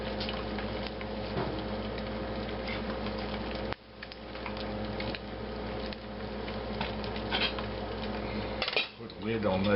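A lid going onto a cooking pot in a home kitchen amid steady clattering of dishes, pots and cutlery, with a sharp clank near the end and faint background hiss throughout.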